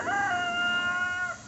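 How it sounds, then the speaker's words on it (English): A rooster crows once in a long, drawn-out, harmonically rich cock-a-doodle-doo in a home vegetable garden, clear and moderately near over faint outdoor background noise. "and that's my rooster."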